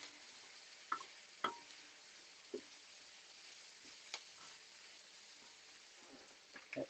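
Thai style pork with soy sauce and ginger sizzling softly in a pan while being stirred, with a steady low fry and a few sharp clicks and taps of the utensil against the pan.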